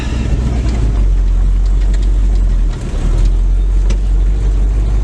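A 1970 Ford F100 pickup truck driving on the road, its engine a loud steady low rumble heard from inside the cab, with a brief dip near the middle and no talk.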